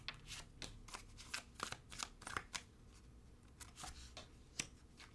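Tarot cards are shuffled by hand in a series of crisp riffling bursts and soft slaps, irregularly spaced and close by, with no one speaking.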